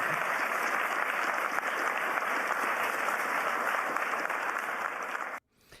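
Sustained applause from a large crowd at Davos after the Canadian prime minister's speech, dense and even for over five seconds before cutting off abruptly into silence.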